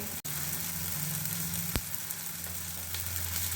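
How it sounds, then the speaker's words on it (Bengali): Egg curry masala with turmeric frying and being stirred in a pan, a continuous close sizzle with a faint utensil tap, no voices. "আবার এটাকে একটু নাড়াচাড়া করে ভালো করে কষিয়ে নিতে হবে যাতে কাঁচা গন্ধটা না থাকে"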